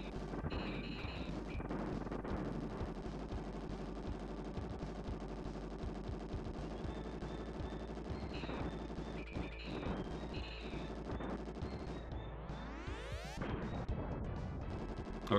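Video game Bazooka Blitzkrieg gunfire, continuous rapid automatic bursts with crashing impacts and a rising synthetic sweep near the end, steady and dense throughout, no voices.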